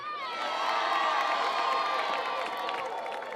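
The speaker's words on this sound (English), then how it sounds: "you want to make some noise, you want to clap your hands, you want to cheer all of our campers on" A young audience at a step show cheers, whoops and shouts together, loud and sustained.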